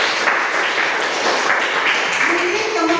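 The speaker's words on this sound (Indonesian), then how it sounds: "tepuk tangan untuk ING" A classroom breaks into dense, steady clapping for a student, the applause filling the room evenly and a voice faintly audible near the end.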